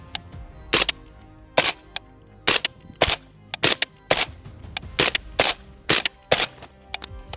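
Rapid series of a dozen or so suppressed gunshots through an Empire Arms Rex Silentium suppressor, sharp close cracks fired in an uneven rhythm with brief pauses between groups.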